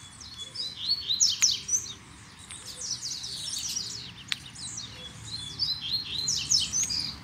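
Coleiro, a double-collared seedeater, singing in bursts of quick high chirping trills, repeated phrases with short pauses between, fairly clear against a quiet outdoor background.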